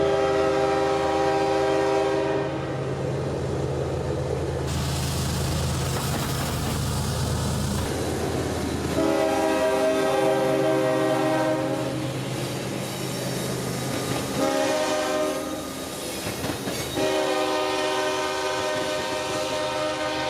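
KCS locomotive 4699 leads a southbound freight past at Plant City, Florida, its horn blaring in long, loud chords over the steady roar and rumble of the engine and passing cars, close by and continuous throughout.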